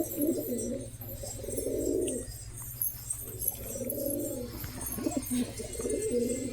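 A pair of Lahore pigeons cooing close by in repeated soft, low phrases, each lasting about a second with brief pauses between, over a faint steady background hum.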